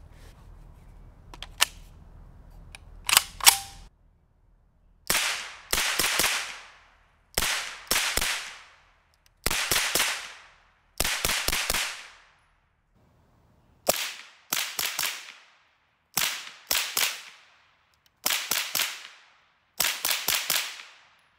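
Suppressed rifle with compensator, a JMAC Customs RRD-2C, firing a long string of sharp, close reports in quick doubles and triples separated by short pauses, after a few lighter handling clicks.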